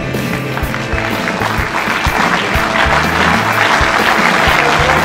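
Crowd applause greets rugby players of the ROC team as they are introduced at a squad and kit presentation, a loud, dense clatter of clapping sustained throughout with low rhythmic thumps beneath.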